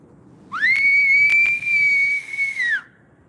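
One sustained, steady whistle held for about two seconds, close and clear, with a couple of faint clicks.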